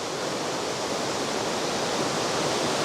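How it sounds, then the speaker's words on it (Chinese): Water pours down a waterfall inside the vast Tenglong Cave in China, a dense, continuous rushing roar with no voices. "洞内的瀑布，大家有见过没有？"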